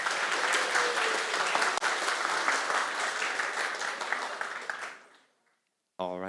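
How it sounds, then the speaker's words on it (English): Delegates in a quiz competition audience applaud loudly, dense clapping and cheering sustained for about five seconds before fading out abruptly into silence. "let's hear a huge round of applause before our first turn"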